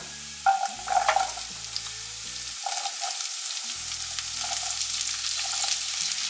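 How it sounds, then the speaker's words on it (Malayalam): Onions frying in a pan for chilli soya chunks, a steady sizzle throughout with a few stirring clatters near the start, no talk. "ഇനി നമ്മൾ ഇതിലേക്ക് സവാള ഇട്ട് കൊടുക്കുകയാണ്."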